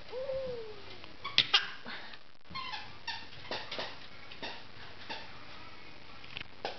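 A dog whines briefly, then gives a couple of sharp yips amid scattered soft taps, fairly quiet and close.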